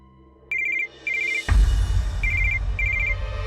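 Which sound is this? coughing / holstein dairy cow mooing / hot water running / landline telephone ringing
landline telephone ringing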